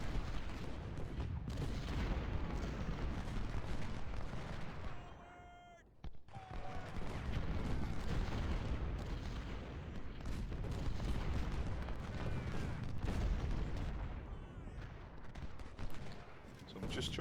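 Cannon artillery fire rumbles continuously through a Civil War battle in Ultimate General Civil War at Fredericksburg, dense overlapping booms and volleys with a brief dip midway, a voice talking over it.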